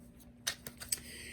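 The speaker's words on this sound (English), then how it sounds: "I'm just going to finish our shuffle, and then we're going to lay them out and see what we got." Tarot cards being shuffled by hand, a few short crisp riffling snaps and slaps close by over quiet room tone, with no talking.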